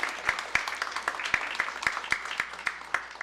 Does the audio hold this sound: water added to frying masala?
no